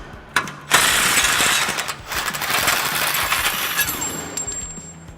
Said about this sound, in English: for these upper two bolts, we're gonna use that 18mm and get those all the way out